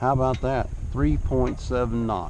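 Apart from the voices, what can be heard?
No everyday noises stand out.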